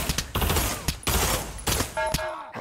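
Rapid bursts of automatic gunfire from a P90 in the Pavlov VR shooter game, several loud clustered volleys separated by brief gaps, ending with a short electronic tone.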